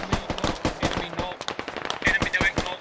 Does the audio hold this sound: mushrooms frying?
no